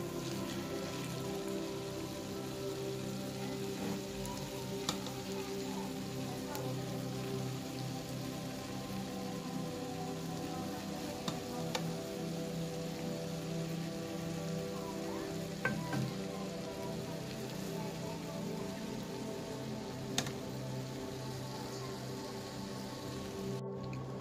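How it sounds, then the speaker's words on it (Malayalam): Rice is added to prawn biryani masala in a Kerala-style pan and stirred. A continuous soft sizzle runs throughout, with occasional faint clinks of the spoon and no speech. "അതിലേക്ക് നമുക്ക് ഇനി റൈസ് ചേർത്ത് കൊടുക്കാം"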